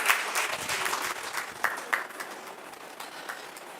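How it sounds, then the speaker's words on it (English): Audience at a school valedictory function applauds, a moderate crowd clapping with several louder individual claps standing out before the sound eases and tapers off. "Big round of applause to Mr."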